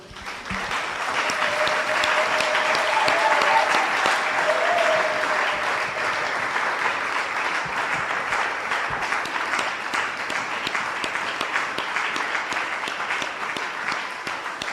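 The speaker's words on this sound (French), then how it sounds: "Est-ce que nous pouvons applaudir pour le Seigneur?" Congregation applauding at a church convention, a broad sustained roar of clapping that swells early and holds strong for the whole stretch, with a faint tone or voice briefly audible beneath it at the start.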